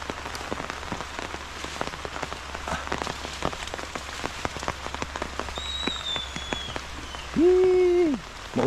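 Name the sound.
rain falling during a storm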